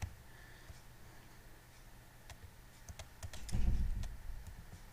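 Keys clack on a computer keyboard in short bursts of typing, faint and close, with a denser flurry of louder taps near the end and no talking.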